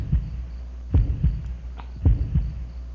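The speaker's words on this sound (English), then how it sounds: "Hear that heartbeat." Heartbeat sound effect in the video game Moonlight Walks: deep, muffled lub-dub thumps pulsing slowly and evenly over a low hum, with no voices.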